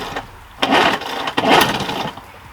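A 1976 Johnson Seahorse outboard motor is given more throttle, rising in two strong buzzing surges between a lower idle. It runs loud and close, with no speech.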